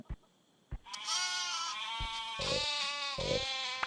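Sheep in the game MiniWorld bleat in a couple of long wavering calls, close and fairly loud, with a few short clicks of game action between them.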